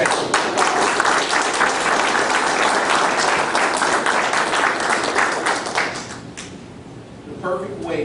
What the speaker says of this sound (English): Give yourself a round of applause for being honors class.